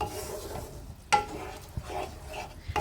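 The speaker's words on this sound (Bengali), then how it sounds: "এবার টক দইয়ের সাথে মশলাটা খুব ভালোভাবে মিশিয়ে নিতে হবে" Spice paste being stirred with whisked sour yogurt in a pan while cooking dry cauliflower masala, giving soft scraping and faint sizzling with a couple of sharper utensil knocks against the pan.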